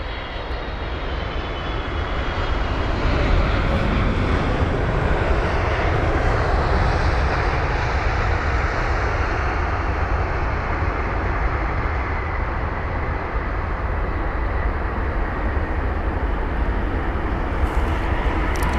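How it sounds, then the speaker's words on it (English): A British Airways Boeing 777-300ER at London Heathrow, arriving as flight BA 280 from Los Angeles, gives a loud, steady jet roar that holds broad and unbroken through the whole stretch with no voices. "The British Airways 777-300ER from Los Angeles LAX, a 9-hour and 25-minute long journey."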